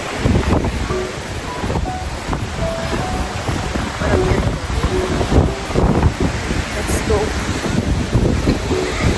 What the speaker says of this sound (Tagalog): may dalawa kasi bagyo ngayon kaya ganyan kalakas yung alon